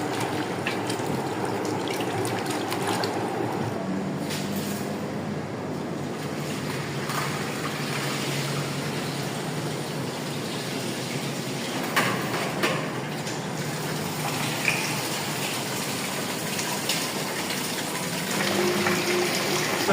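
Potatoes being washed in water for a Pakistani aloo tarkari, with continuous splashing and sloshing of water close by, steady throughout with occasional louder swishes and no talk.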